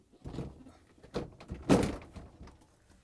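A drawer on a Samsung refrigerator's slide rails is set in place with several close plastic thunks and knocks, building to one firm slam-like clunk before quieter rattles, without talking.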